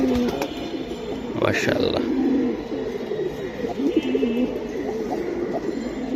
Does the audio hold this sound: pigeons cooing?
yes